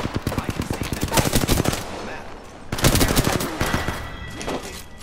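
Loud video game gunfire during a vault attack, rapid automatic bursts in two long volleys separated by a brief gap, then trailing shots and echoes.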